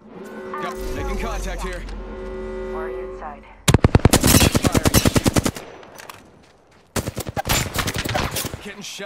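Apex Legends match: long rapid strings of automatic gunfire rattle loudly and close, in two bursts after a stretch of droning, tonal in-game sound.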